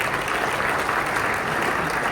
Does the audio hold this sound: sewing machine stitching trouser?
no